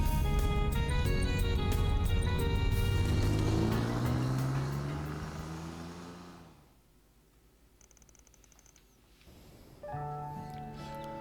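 A car drives in the game Trails through Daybreak, with a steady engine hum and rising tone under music. It fades almost to silence midway, then the music returns.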